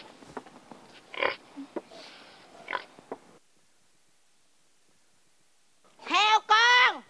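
A piglet grunts and oinks in a few loud, close squeals near the end, after a stretch of speech and then near silence.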